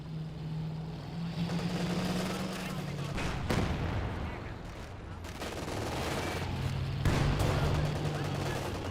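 An M1 anti-tank gun firing in the video game Company of Heroes 2, heavy booming shots amid battle noise and engine drone, with a commentator talking over the action.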